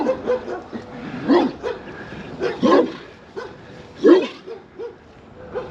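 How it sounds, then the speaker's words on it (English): Dogs barking in scattered single woofs and yips at moderate distance, heard during an outdoor bike ride over faint background noise. "Those dogs want to eat me."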